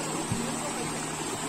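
Water rushing in the stream below Hodhodi waterfall, a steady, even wash of flowing water heard throughout, with a faint low tonal hum briefly rising under it.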